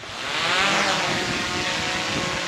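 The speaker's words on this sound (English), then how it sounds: "Get the drone started up." Drone propellers spinning up for a flight mission, a rising whine that builds over the first half second and then holds as a steady, close, high-pitched buzzing hum.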